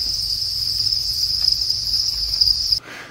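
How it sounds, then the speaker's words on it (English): Crickets chirp in a dense, steady high-pitched trill that runs continuously and fairly loud before stopping abruptly near the end. "crickets."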